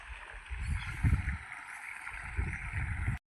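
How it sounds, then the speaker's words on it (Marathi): Motor-pumped irrigation water pours into a channel and fills a bed in a maize field, making a steady, close rushing gurgle that swells a little throughout, with no talking. "तर आलं पाणी बघा इकडं."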